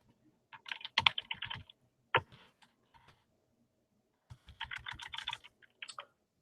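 Typing on a computer keyboard while coding in Python, with two quick bursts of close keystrokes separated by a brief pause and a single sharper tap.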